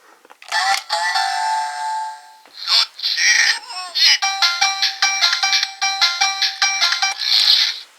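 A bright electronic toy chime from a Ninninger Ninja StarBurger transformation device plays a sustained standby tone, then a bouncy series of rhythmic beeping notes and jingles, loud and close.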